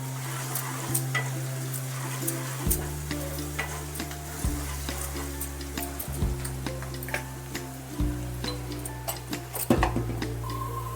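Sliced onions fry in a pan with salt added while making an okra gravy, a steady close sizzle broken by repeated scraping stirs and small ticking clinks of a spoon against the pan.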